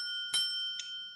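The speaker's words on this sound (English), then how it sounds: "With 30 seconds to go, they'll hear a little bit of a warning bell." A small warning bell rings during a timed pitch competition final to signal 30 seconds left. It gives one clear strike, then a softer second tap, and its tones hang on and ring out faintly.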